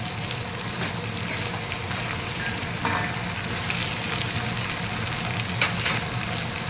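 Onion and green chili sizzle and fry in a pan while being stirred, a continuous close crackling with occasional scraping strokes.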